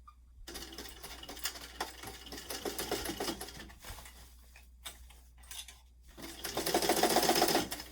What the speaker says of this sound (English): I'm going to start by sewing down the sides.